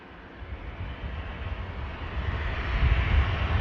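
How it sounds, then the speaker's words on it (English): An EasyJet airliner bound for Lisbon rolls down the runway at Manchester Airport, a broad low jet roar building steadily louder over a few seconds with no voices. "EasyJet on the roll to Lisbon."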